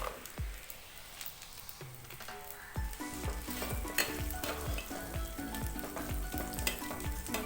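Steady sizzling of raisins frying in hot ghee fills the clip, punctuated by repeated knocks and scrapes of a spoon stirring in a pan up close.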